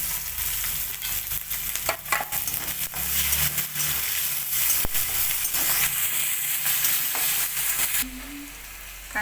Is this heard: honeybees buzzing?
no